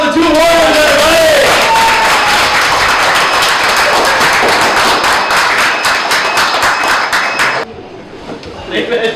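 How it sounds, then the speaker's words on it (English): Enthusiastic applause and cheering from an audience for two contestants at a durian dessert eating challenge, loud dense clapping sustained for several seconds before cutting down abruptly near the end. "Round of applause for the 2 warriors, everybody!"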